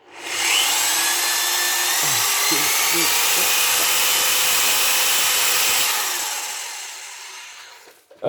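A Parkside PWDS 920 A1 drywall sander runs steadily at high speed for about six seconds, a loud continuous whine, then spins down and fades before a brief knock at the end.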